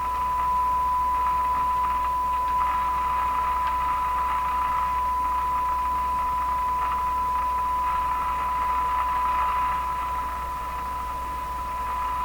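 A General Electric KL-70 AM radio gives a steady pure tone over a continuous bed of hiss and static, with both at about the same level and holding evenly throughout, with no speech.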